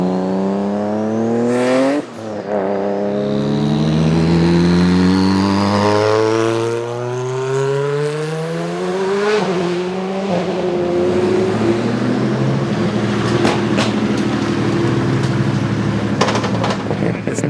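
A Toyota Celica GT4 engine roars on a hill climb run up Washington, loud and continuous, revs sweeping up through the gears with brief dips at shifts, steady close-miked drone throughout.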